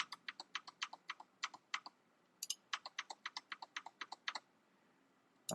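Quick bursts of keystrokes on a computer keyboard as a password is typed, crisp close clicks in two runs separated by a short pause, with no talking.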